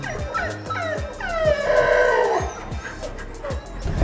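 A Kombai dog barks close by in a short series of sharp, loud barks with a whining edge, while fowl call faintly in the background.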